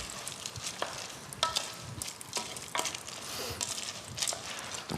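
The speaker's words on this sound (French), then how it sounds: "je vais donc remuer jusqu'à absorption" Coquillettes pasta being stirred with white wine in a pan, a soft sizzle under intermittent scraping strokes of a utensil, quiet and close, with no talk.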